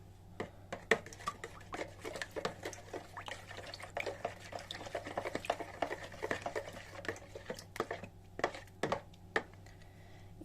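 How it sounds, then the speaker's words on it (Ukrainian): Dough mixture with six tablespoons of oil being stirred, giving repeated wet, sticky clicks and squelches in an irregular rhythm, close up and fairly quiet, with no voices. "Шість столових ложок олії. Перемішую."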